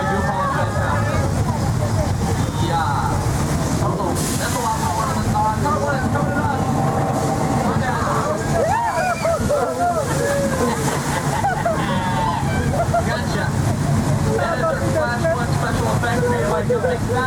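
Heavy water slosh and splashing from a staged flash flood rushing down toward an open tram at Universal Studios Hollywood, steady and loud throughout, with crowd chatter and voices underneath.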